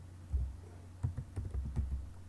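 Typing on a computer keyboard while entering an R function: a few soft, closely spaced key clicks in short bursts, close and quiet, with no talking.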